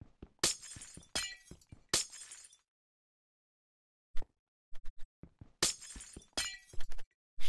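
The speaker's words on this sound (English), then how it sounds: "Break the glass." Glass panes shattering in Minecraft, several sharp crashing bursts with glittering high-pitched debris, spaced apart with quiet gaps and short clicks between them, played close and loud.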